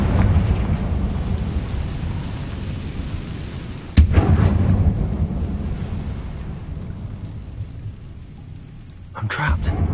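A Confringo blasting spell explodes in the video game Hogwarts Legacy: one sharp, loud blast cuts through a constant low rumbling backdrop, with another burst of noise near the end.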